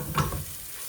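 A quick stir of potatoes and ground spices in a hot frying pan gives a short scrape and a soft sizzle that quickly fades into a low hiss.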